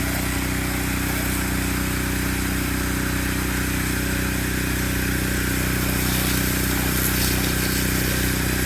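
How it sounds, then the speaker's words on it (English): A pressure washer fitted with a rinse tip runs at a steady, loud engine drone about 10 to 15 feet away during softwashing of a second-story house, unbroken for the whole stretch. "Alright, so pressure washer's running. We got the rinse tip on."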